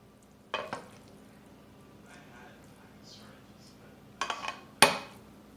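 A spoon stirs chickpeas (white chana) with a spoonful of lemon juice in a pot, giving a few clinking scrapes: one near the start and a louder cluster near the end, separated by quiet low background with faint activity.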